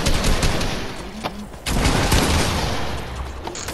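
Gunfire in the video game Fortnite crackles in rapid, dense bursts, a brief lull in the middle before another sustained volley of loud game shots and impacts.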